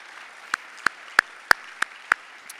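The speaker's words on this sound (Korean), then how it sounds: "다시 한번 뜨거운 박수로 격려해 주시면 감사하겠습니다" At a church leaders' installation ceremony, a handful of separate, evenly spaced handclaps ring out one at a time, about seven claps, faint and isolated against near silence.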